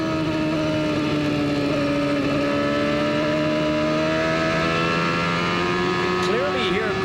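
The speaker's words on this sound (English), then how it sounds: "Clearly hear Gordon play with the throttle. He's on, off, on, off." A 1995 IndyCar racing engine at the New England 200 holds a loud, steady high-pitched drone that rises and dips slightly near the end as the throttle is worked, with commentary talk over it.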